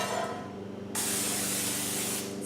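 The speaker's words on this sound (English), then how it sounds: "But first, cannot forget to do the spray." Cooking spray hisses into a loaf pan while banana bread batter waits, a short steady burst close by that starts abruptly and holds for a couple of seconds.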